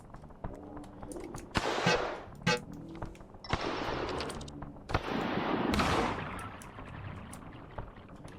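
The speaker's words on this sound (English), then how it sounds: "pistol just destroys pretty much every regular enemy in one shot" Pistol shots in the game Cruelty Squad: several sharp, punchy cracks ring out at irregular intervals, some with a bright metallic ring and lingering tails, moderately loud amid background game noise.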